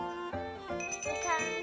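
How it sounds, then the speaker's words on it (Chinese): A small hand bell rung several times in quick succession, bright ringing tones with shimmering overtones, moderately close with a faint voice underneath. "哦，洋洋找到了铃铛。"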